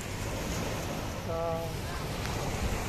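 Wind driving waves against the shore: a steady, broad rush of surf and gusts with wind buffeting the microphone, and a faint tonal sound briefly in the middle.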